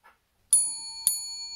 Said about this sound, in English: that bell means that we're running short on time